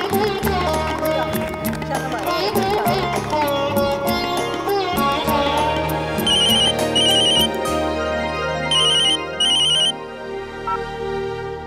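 A telephone ringtone plays as a loud repeating electronic melody alongside a music-backed television drama scene, with bright chiming bursts recurring through the middle and end.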